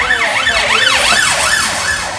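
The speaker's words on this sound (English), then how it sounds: "Fucking ambulance." Ambulance siren wailing loudly with a rising and falling sweep that repeats several times, close by, with traffic noise underneath.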